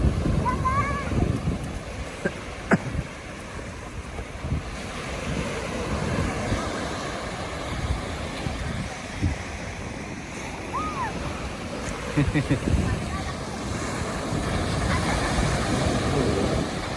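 Ocean waves roll and wash onto a beach during a Songkran seaside outing, a steady broad surf roar mixed with wind buffeting the microphone and occasional voices close by.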